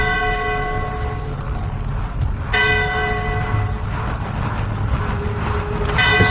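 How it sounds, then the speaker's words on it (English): Church bells ring out in a steady series of bright, sustained tolls, with new strikes landing every couple of seconds over a low rumbling background. "Bells tolling too often."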